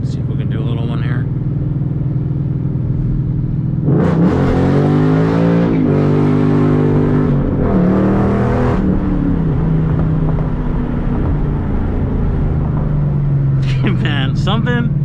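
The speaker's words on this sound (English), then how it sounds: "doing a second gear rolling burnout." A Mustang GT 5.0 with the Coyote V8 roars through a second-gear rolling burnout, a loud close rumble swelling in bursts of revving with tyre noise, while someone talks over the engine.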